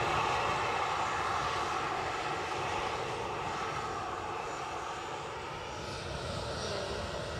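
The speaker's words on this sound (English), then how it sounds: "first EasyJet's off to Bristol, and the EasyJet behind is off to Birmingham" An EasyJet airliner roars steadily as it takes off from Edinburgh airport, a loud, continuous broadband engine rumble that holds constant throughout with no talk over it.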